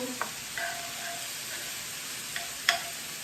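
A spoon stirs a salty bouillon-style seasoning into the stuffing inside bell peppers, making a few soft, scattered scrapes and clicks over a steady background hiss.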